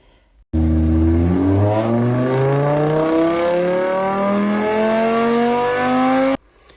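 A Suzuki Baleno engine revs loudly and close as the accelerator is pressed. Its pitch climbs smoothly and steadily for about six seconds before cutting off abruptly.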